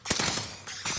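Rapid burst of Blat gunfire in a first-person shooter video game, loud and dense, followed by a brief pause and another burst, with no talk over it.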